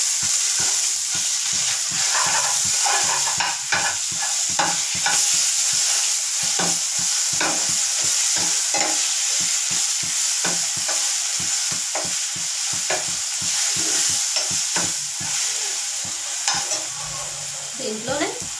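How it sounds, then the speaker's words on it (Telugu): Curry seasoned with garam masala fries in a pan while a spoon stirs it, giving steady sizzling and a run of quick, repeated scraping strokes up close, with no talk. "కొంచెం గరం మసాలా. ఇది బాగా కలిపేసుకుందాం ఒక్కసారి."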